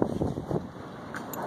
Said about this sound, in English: Super fucking windy today.